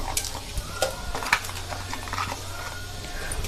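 Mustard seeds, cumin and dried chillies crackle in hot oil, a quiet sizzle broken by quick irregular pops and spits.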